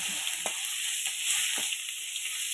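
Chopped onions sizzling in hot oil, a steady bright frying hiss with a few soft scraping stirs, close and even, with no voices.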